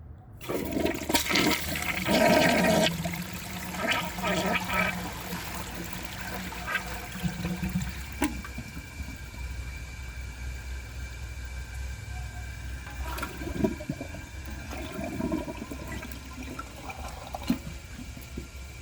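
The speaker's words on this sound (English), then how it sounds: "So I'm going to let the tank fill back up and give you guys another flush." A 1985 Kilgore Aladdin toilet flushes with a loud, close rush of water that settles into the gurgle and trickle of the tank and bowl refilling.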